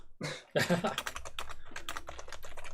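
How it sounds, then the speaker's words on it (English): Rapid typing clatters on a Fujitsu mechanical keyboard with pre-Cherry switches, crisp close keystrokes in a steady run after a brief cough at the start. "it was mechanical keyboard, wasn't it?"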